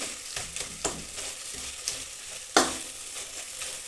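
Garam masala and turmeric fry in a hot tempering for tomato bath, a steady close sizzle broken by several scraping stirs of a spoon against the pan.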